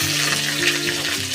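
Green chillies with bay leaf, dried red chilli and five-spice frying in hot oil for a Bengali bottle-gourd curry, a steady close sizzle with a low tonal hum underneath, no talking.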